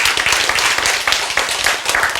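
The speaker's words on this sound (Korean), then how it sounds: "박수" An audience applauding at a Korean church sermon, a dense burst of hand clapping at close to mid distance, lasting the whole moment and briefly swelling and easing.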